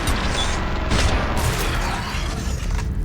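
Loud, dense gunfire and booming shots fill a video game battle on a balcony-lined street, with a sniper rifle firing among continuous rattling bursts and impacts, no talk over it.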